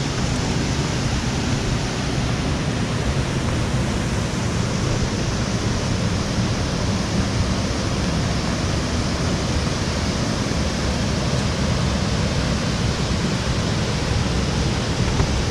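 Canikdere waterfall in Tonya, Turkey, gives a constant, dense roar of falling water that stays loud and unbroken throughout, with no voices.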